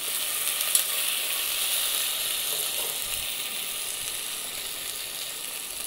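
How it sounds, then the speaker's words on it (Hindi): Dry spices hit hot oil in a frying pan for an egg curry, giving a steady, moderately loud sizzle with a faint tick near the start and no voice. "अब हम सूखे मसाले डालेंगे।"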